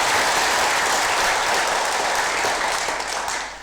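Sustained applause from an audience at a Quran handover ceremony between regional religious affairs and prison officials, dense steady clapping throughout that tapers slightly at the end.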